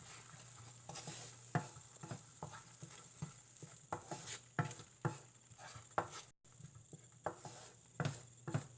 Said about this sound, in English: Mix them all well.